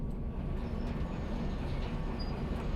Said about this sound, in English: Get this train in the track.